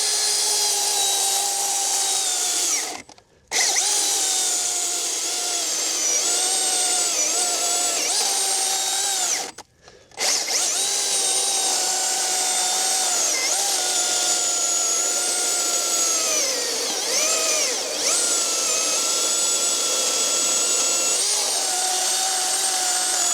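A Milwaukee M18 FUEL 20-inch dual-battery chainsaw bucks through wood, a loud, sustained high whine with a steady tone that cuts out briefly twice, then resumes, its pitch dipping slightly under load.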